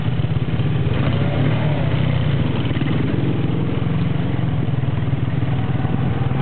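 A 110 quad bike (ATV) engine runs loud and close, a steady buzzing drone with throttle held open throughout.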